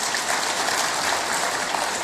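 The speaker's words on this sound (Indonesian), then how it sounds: "Tepuk tangan buat Pak Kodari" A room of attendees at a speech on strengthening the housing ecosystem breaks into steady, dense applause for Qodari, heard close and even throughout.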